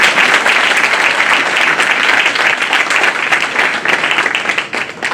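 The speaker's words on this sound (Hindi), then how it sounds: "बार काउंसिल के लिए ताली बजाओ।" Loud, dense applause from a seated audience at a lawyers' enrollment ceremony, continuous close clapping throughout with no voices over it.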